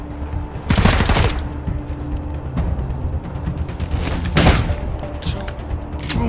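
Bursts of rapid automatic gunfire from Wasteland 3 combat, two loud volleys over a steady game background rumble, with thuds in between.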